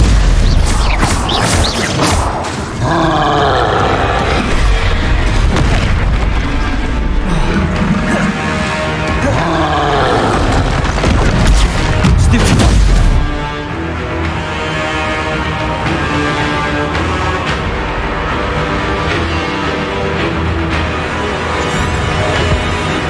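Spell blasts and explosions go off in Hogwarts Legacy combat, with repeated loud booming bursts and crashes over a busy mix for much of the run. Things settle into a calmer, steadier background near the end.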